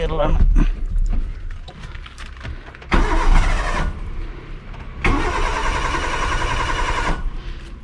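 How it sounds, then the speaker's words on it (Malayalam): A 1996 Maruti Zen's self starter cranks on a cold start attempt, with two long whirring bursts of cranking that fail to catch, loud and close, between stretches of someone talking. "നമുക്കതിന് സെൽഫും കാര്യങ്ങളും അടിച്ച് വെക്കാം."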